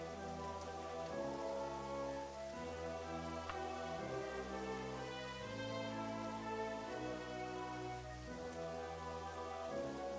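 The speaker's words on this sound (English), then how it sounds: "Raining too." Steady, even rain falls in the video game The Elder Scrolls: Daggerfall, a continuous patter with no talk, layered over a sustained musical drone from the game.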